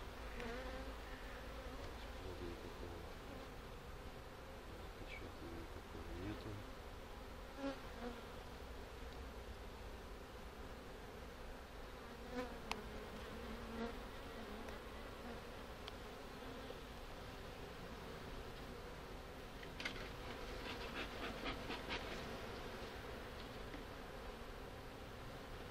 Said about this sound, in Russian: Трутни и чуть-чуть пчелки.